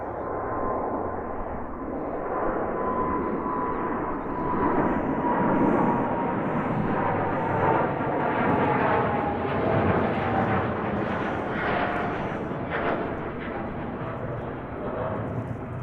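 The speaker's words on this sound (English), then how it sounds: "Qantas setting off on what I think is that super long flight" Qantas airliner taking off at Heathrow, a long, steady roar of jet engines that stays loud from start to finish, with a faint whine drifting slowly across it and no voices.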